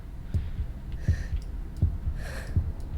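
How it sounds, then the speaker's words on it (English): A slow, muffled heartbeat thumps in the video game Fahrenheit, low double beats repeating at a steady rhythm under faint breathy ambience, with no talking. "Oh, I don't like heartbeat sounds."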